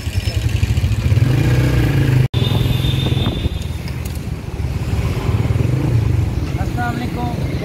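A motorcycle pulling away, its mid-pitched engine running steadily with some clatter, close and loud, while a person talks over it.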